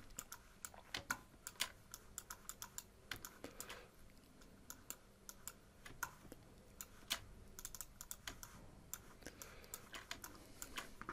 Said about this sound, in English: Holding spacebar, then clicking and dragging the mouse.